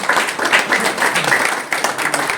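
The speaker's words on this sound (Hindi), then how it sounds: "जोर से ताली बजाएं।" A crowd at a community awareness meeting claps in welcome, a dense, lively patter of many hands sustained without a break, with faint voices mixed in.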